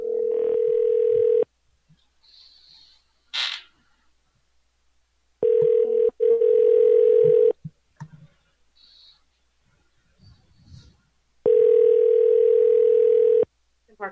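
A telephone ringback tone plays while a call is transferred to Remington Park Casino. Three long, steady, loud tones are separated by quiet gaps, with a few faint clicks and beeps in between.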